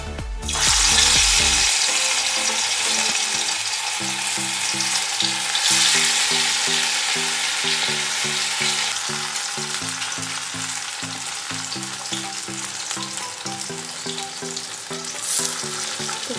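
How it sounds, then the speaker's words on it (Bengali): Drumstick flower fritters sizzle steadily in hot oil, a continuous bright frying hiss with occasional crackles, close and fairly loud, accompanied by a faint rhythmic low background pattern. "চলো এক এক করে সজনে ফুলগুলো ভেজে নিই"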